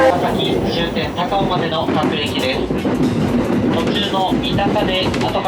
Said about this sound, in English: my train is here right now